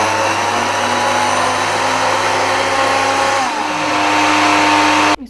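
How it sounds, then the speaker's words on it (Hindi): Electric mixer grinder whirring steadily at close range as it grinds dried mint into raita powder, a loud continuous motor hum that runs alone and cuts off sharply near the end. "और इसको मैं ग्राइंड कर लूँगी।"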